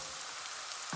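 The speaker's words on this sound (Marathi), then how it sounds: "आता याच्यामध्ये घालायचा आहे कांदा." Onion hitting hot oil with garlic and ginger over high heat for veg Schezwan fried rice, giving a brief, dense, even sizzle heard close up with no talking.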